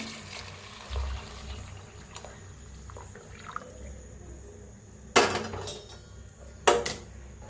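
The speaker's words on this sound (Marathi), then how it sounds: "गरम पाणी करून घेतलेलं आहे. आता हे सगळं ओतूया ह्याच्यात." Hot water is poured into a pot of masala rice in two short, splashy gushes over a quiet kitchen background.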